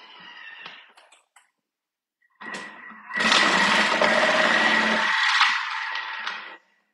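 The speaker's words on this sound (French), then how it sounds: "Et maintenant, j'appuie et je vais vous faire le râpé épais." A Thermomix with the Découpe minute attachment grates coarsely, a short motor whir starts, then a loud steady grinding hum runs for about three seconds before stopping abruptly.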